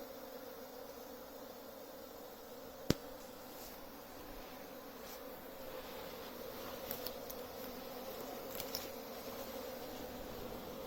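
A wild honeybee swarm moving into a hive, heard as a steady, faint insect hum that rises and falls a little throughout, with one sharp click near the start.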